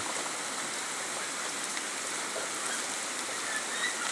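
Light drizzling rain falling steadily outdoors in Jhenaidah, a soft, even hiss of fine drops with no breaks, moderately quiet and without voices.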